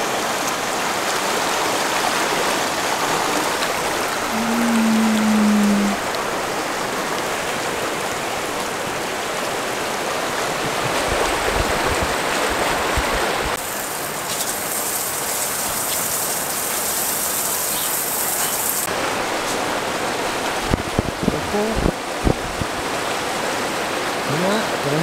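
A steady, loud rush of floodwater from the DANA storm in Murcia fills the whole stretch, dense and continuous, with occasional faint knocks and splashes over it.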